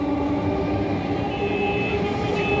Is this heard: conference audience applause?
no